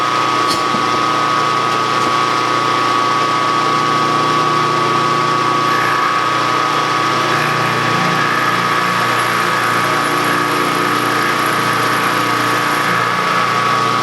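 A light metal-cutting machine takes fine, shallow cuts on metal tubing for a tubing bender, giving a steady motor drone with a high whine that runs unbroken for the whole stretch, fairly close and moderately loud.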